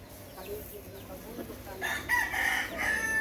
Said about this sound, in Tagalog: daming manok dito, panabong